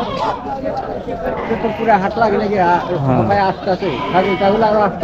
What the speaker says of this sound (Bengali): এই জনতা কলেজের মাঠে ছাগল বকরির হাট বসে, এখানে বেচা কিনা হচ্ছে